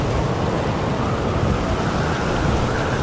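Thunderstorm in the dinosaur park management game Jurassic World Evolution 2, heard as a steady, loud wash of rain with low rumbling thunder underneath, continuous throughout without any talking.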